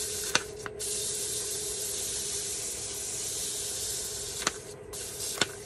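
A turned workpiece spinning on a lathe is sanded with 400-grit paper at a slow speed, giving a steady, soft close-up hiss over a low motor hum, with a few sharp clicks and no talking.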